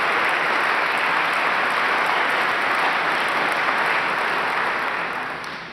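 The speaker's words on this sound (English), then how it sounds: "Can we please give all of our sponsors, as well as our food sponsors, a round of applause?" An audience at an opening session gives a round of applause for sponsors, a broad, steady wash of many hands clapping that tapers off at the end.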